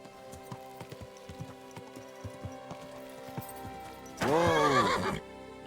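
A horse in the medieval game Kingdom Come: Deliverance II clip-clops at a steady walking rhythm, then lets out a loud whinny near the end.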